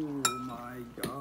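Two bright clinks of utensils while spicy noodles are mixed, one near the start and one just before the end, with faint voices in the background.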